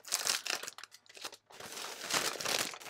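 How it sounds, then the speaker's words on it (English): Loud, close crinkling and rustling of plastic diamond painting packaging being handled during an unboxing, in two continuous bursts separated by a brief pause. "Sorry for all the crinkling"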